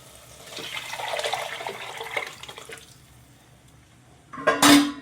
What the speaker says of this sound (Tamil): இப்போ நம்ம வந்து ஆணத்தை இதில் ஊற்றிக்கலாம்